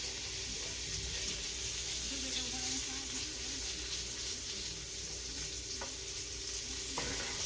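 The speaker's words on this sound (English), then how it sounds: "I'm going to add that to my melted butter pan and cook that for a few minutes" Vegan spam frying in a pan of melted butter, a steady close sizzle with faint stirring scrapes running throughout and a couple of brief clicks near the end.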